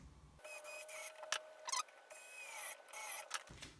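A screw is tightened into a GT2 belt clamp on a 3D printer's Y axis, producing close, quiet bursts of ratcheting clicks and small creaks with short pauses and no talking.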